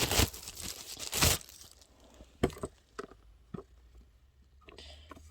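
Plastic film and packaging being cleared away while unboxing a small pink turntable-style Bluetooth speaker, with loud crinkling bursts early, then scattered rustles, taps and handling noises at a quieter level.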